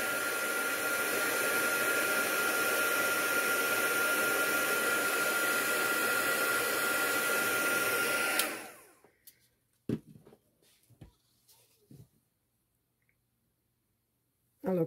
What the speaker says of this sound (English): Now the heat guns are very hot. Quite powerful, so, and very noisy.